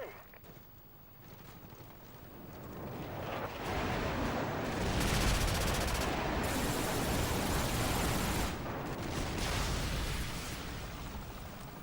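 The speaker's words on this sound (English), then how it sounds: "Friendly airstrike on the way." Friendly airstrike in Call of Duty 4 / Modern Warfare 2 on PS3: a dense, sustained rumbling roar of explosions swelling from about four seconds and holding loud for several seconds before easing back, with no talk.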